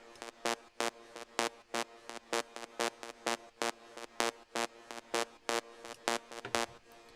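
Rave-style square-wave synth lead from SampleTank's Hitmaker EDM library, playing a theme of short, evenly spaced bright stabs in a steady rhythm, fairly quiet throughout.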